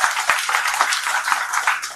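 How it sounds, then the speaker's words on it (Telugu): An audience at a Vijayawada meet-and-greet event claps together in a brief burst of steady, dense applause, close and fairly loud throughout. "ఒకసారి మీ చప్పట్లతో కూడా చెప్పండి నిజం."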